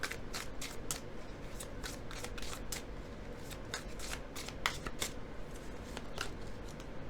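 Tarot cards are shuffled by hand in quick, crisp riffling bursts that repeat steadily and sound close and clear, with no talking.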